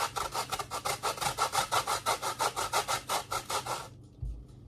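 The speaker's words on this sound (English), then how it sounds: "I'm just going to zest a little bit into the bowl" Lemon zest grated into a bowl: a steady run of about twenty quick rasping strokes, close and fairly loud, stopping abruptly near the end with a soft bump after.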